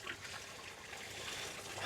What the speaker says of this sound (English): it looks like the water is just passing over the top of the media here